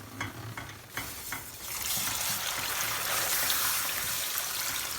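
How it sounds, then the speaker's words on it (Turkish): Water poured into cornmeal toasting in a hot pan for kuymak, bursting into a loud, steady hiss and sizzle after a few soft stirring scrapes. "Suyumu ilave ediyorum."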